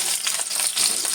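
Bitter gourd slices fry in a pan with a dense, steady sizzle, loud and close, without any talk.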